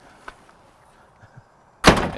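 A single door shuts with a loud, solid thud after a few faint knocks and creaks in a quiet room.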